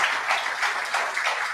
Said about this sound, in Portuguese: Dê mais um aplauso bem forte a Jesus